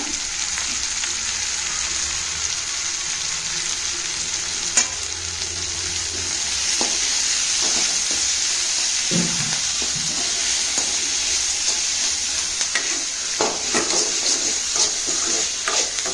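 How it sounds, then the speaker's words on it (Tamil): Fenugreek leaves and tomato with salt sauté in a pan for a fresh sundaikkai methi gravy, giving a steady close sizzle broken by repeated scraping and stirring sounds throughout. "வெந்தயக்கரையை இதில் போட்டு நல்லா வதக்கிடலாங்க"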